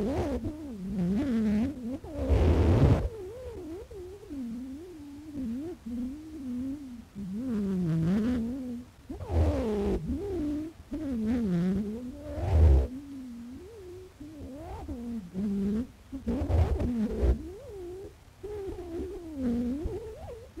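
Early phonautogram sound recording by Scott played back without speed correction, a warbling, wavering tone with sliding pitch that rises and falls irregularly, with louder bursts throughout and no speech.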